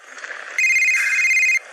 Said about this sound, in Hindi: तभी रिशान का फोन बजा।